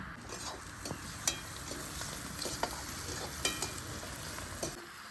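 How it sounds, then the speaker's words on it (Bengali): Garlic, onion and green chili with salt and turmeric fry in oil, giving a soft, even sizzle with occasional sharp clicks of a spoon stirring the pan. "তেলের মধ্যে রসুন পেঁয়াজ কাঁচা লঙ্কা লবণ হলুদ দিয়ে ভালো করে ভেজে নিই"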